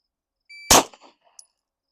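A single one-handed pistol shot fired left-handed during a shooting drill, one sharp close crack followed by a brief metallic ring and faint echo, then quiet.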